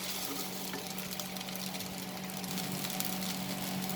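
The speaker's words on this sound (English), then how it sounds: "So let's cook for 3 to 4 minutes over high flame like this." Vegetable upma fries over a high flame in a pan, a dense, continuous close sizzle with a steady hum underneath and no talking.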